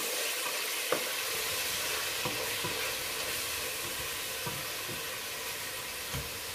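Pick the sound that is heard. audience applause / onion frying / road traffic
onion frying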